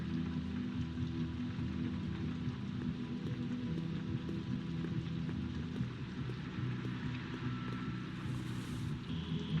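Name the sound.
rain outside in The Wolf Among Us video game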